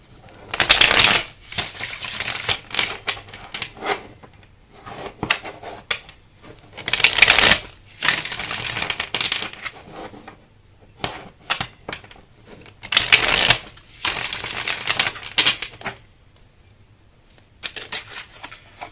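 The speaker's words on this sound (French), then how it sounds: "On va battre les cartes pour le groupe 2." A deck of tarot cards shuffled close up in several rapid riffling bursts, with softer slides, taps and handling between them and no talking.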